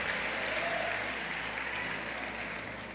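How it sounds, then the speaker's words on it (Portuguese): A Pentecostal church congregation claps together in a cheerful round of applause, dense and even clapping that carries steadily through the hall without speech. "dê uma salva de palmas bem alegre ao nome do Senhor Jesus"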